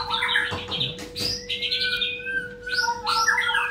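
A white-rumped shama (murai batu), just taken in from sunning, sings in a quick series of bright chirps and whistled phrases, close and clear over a faint steady electrical hum.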